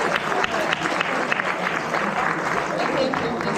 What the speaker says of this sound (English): applause for everyone